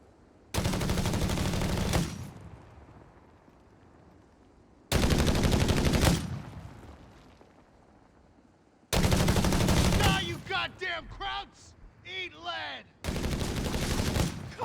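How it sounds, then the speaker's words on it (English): Four long bursts of M1919 machine gun fire from Company of Heroes 3, each about one to two seconds of loud, dense automatic fire separated by short gaps, with other scattered shots and whizzing sounds trailing the third burst. "And here's another sound effect that's different. The M1919."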